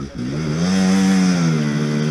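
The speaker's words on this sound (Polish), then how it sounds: "prawie bez gazu jedzie ten motor" A hard enduro motorcycle on a muddy training trail in Romania drones at low throttle, its engine note close and steady, rising slightly and then holding through the brief stretch.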